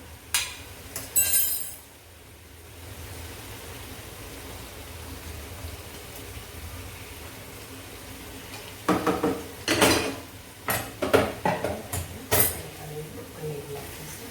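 Paneer being stirred into palak gravy in a pan, with a few clanks at the start, then quiet, then a burst of repeated metallic scraping and knocking of a spoon against the pan, while a person talks.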